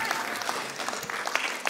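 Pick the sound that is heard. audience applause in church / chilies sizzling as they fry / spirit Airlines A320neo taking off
audience applause in church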